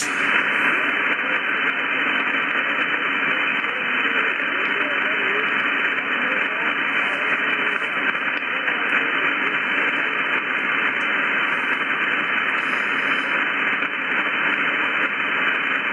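A weak ham radio signal on the 20 meter band is buried in a constant hiss of static, with a faint voice barely poking through the noise.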